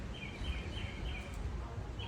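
Birds call faintly on the grounds of a beach resort in Negril, Jamaica, light chirps and whistles recurring over a steady low outdoor rumble.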